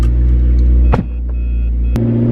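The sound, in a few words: McLaren sports car engine driving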